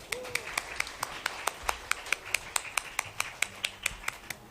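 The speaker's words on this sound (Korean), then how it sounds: "큰 박수 부탁드리겠습니다" Steady, rhythmic claps ring out at an even pace, moderately loud and fairly close, more like a few people clapping in time than a full crowd, welcoming a band at a talk concert.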